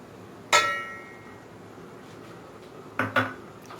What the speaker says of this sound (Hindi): अब मैं एक बर्तन ली हूँ, उसमें घी डालूँगी।